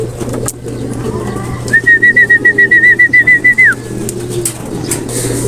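Racing pigeons return to the loft as a loud, close whistle-like trill of rapid pulses lasts about two seconds over a steady low hum.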